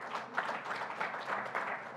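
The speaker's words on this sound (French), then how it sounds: "sous vos applaudissements, mesdames et messieurs." Applause from the audience at the official opening of an international chemistry forum, a steady wash of many hands clapping at moderate level for about two seconds with no break.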